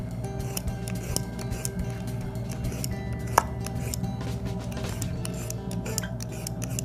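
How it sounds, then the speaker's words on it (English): Close scraping and rasping strokes of a hand peeler shaving the tough outer skin off an artichoke's core, repeated short scratches with occasional small clicks, steady and near with no talking. "I'm going to take my peeler and just peel it a little bit"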